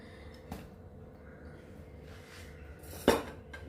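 A pressure-cooker container is handled among kitchen pots before steaming red pumpkin pieces, giving two sharp metallic clinks about two and a half seconds apart over a quiet background.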